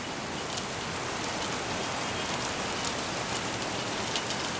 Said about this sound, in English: rain squall coming in.